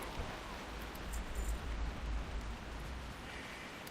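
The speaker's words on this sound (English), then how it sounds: "this is a really heavy rain" Heavy rain in the video game World of Warcraft Classic, set in Feralas; a steady, moderately quiet wash of falling rain with a low rumbling undertone, constant throughout and free of speech.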